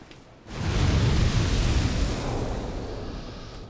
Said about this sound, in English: that one's a very big explosion that will probably kill you in one hit